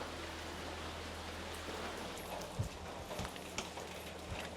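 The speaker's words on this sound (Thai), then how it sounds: "วันนี้เพื่อนๆฝนแบบตกหนักมาก" Heavy rain falls on a foggy mountain road in Pang Mapha, Mae Hong Son, heard as a steady, dense hiss with a low rumble and a few scattered knocks and taps.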